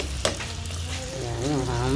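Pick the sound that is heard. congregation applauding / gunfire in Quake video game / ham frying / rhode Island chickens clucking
ham frying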